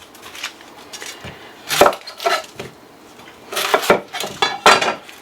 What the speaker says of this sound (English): chop some veg